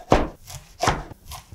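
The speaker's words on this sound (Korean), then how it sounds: "쫑쫑 썰어주세요" A knife chops fresh mugwort on a cutting board in two loud, close thuds with a fainter third stroke, each one a sharp crisp hit, no voices.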